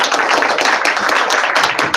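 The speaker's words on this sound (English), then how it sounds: "So we're going to clap it." An audience applauds to vote for the best group, a loud, dense wash of many hands clapping at once, steady and close throughout.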